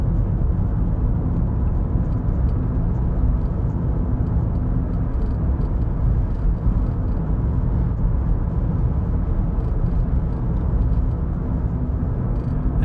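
Steady engine hum and tyre roar from inside a car cruising around 45 mph in fourth gear on a UK country road, continuous and even throughout with no talk.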